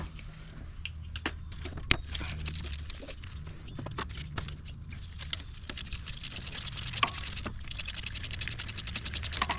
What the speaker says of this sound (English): we can take this bolt off right here